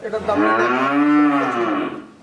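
A heifer, a ready-type young cow of Holstein Friesian or Fleckvieh cross at a cattle farm, gives one long, loud, close moo that rises and falls over about two seconds, with no talking.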